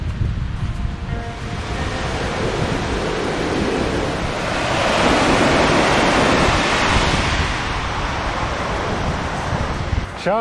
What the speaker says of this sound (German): Ein ganz schön reißendes Wasser.